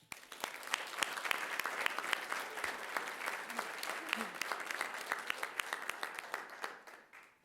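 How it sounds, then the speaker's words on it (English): An audience at a Peoria Unified school board meeting applauds graduates with steady, dense clapping that holds for several seconds at moderate distance before tapering off at the end. "Let us give these graduates a big round of applause."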